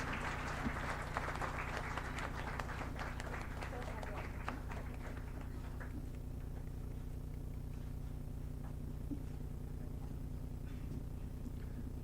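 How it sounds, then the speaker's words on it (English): An audience at a moot court prize distribution ceremony claps steadily. The applause is moderately faint and fades toward a quieter, sparser patter in the second half. "A big round of applause for sir,"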